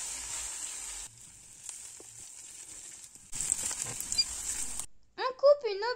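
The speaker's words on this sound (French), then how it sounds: "وكنشحروا مزيان حتى كتنزل لينا البصله وكيولي اللون ديالها مذهب" Onion sizzles in a frying pan, a loud, steady hiss that cuts in and out in bursts, followed by a brief spoken voice at the end.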